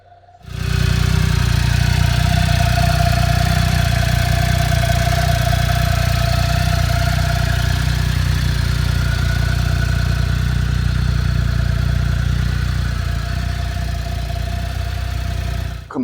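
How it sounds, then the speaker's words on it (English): A CFMoto UForce U10 Pro UTV engine idles steadily with a low, even rumble that runs unbroken after a quick push-button start, with no voices. "It's a good sounding engine. It sounds very, very good."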